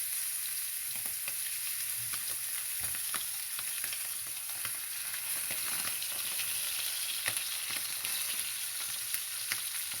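Chicken pieces frying skin side down in a pan on a lowered stove, giving a steady, even sizzle with faint crackles and occasional small pops, close and without speech.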